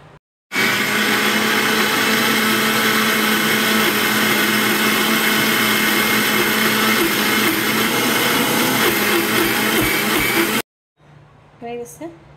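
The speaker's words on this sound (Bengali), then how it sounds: "এই যে শুধু মসুরের ডাল ভিজে গেছে, এটাকে ব্লেন্ডার করে ডালের বড়া বানাবো" An electric blender grinds soaked red lentils (masoor dal) for lentil fritters, a loud steady whir running about ten seconds before cutting off abruptly, followed by brief speech.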